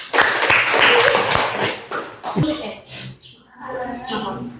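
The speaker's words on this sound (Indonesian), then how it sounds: "Silakan aplaus" Applause from a school classroom audience after a group presentation, a burst of clapping in the first half that fades into talking voices.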